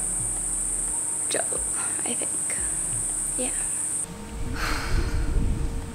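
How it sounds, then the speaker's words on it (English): Cicadas buzz outdoors in the heat as a loud, steady, high-pitched drone that cuts off partway through, with a person talking and breathing near the microphone and some wind noise toward the end. "Because I can't film anything when the cicadas are going."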